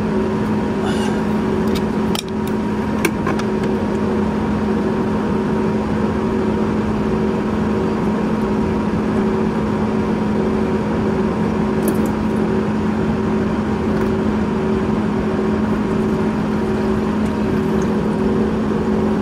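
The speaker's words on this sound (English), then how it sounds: "let's warm up the engine." An Audi RS7 engine warms up at idle with a constant low hum for a long stretch, unchanging and fairly loud, with a few faint clicks and knocks.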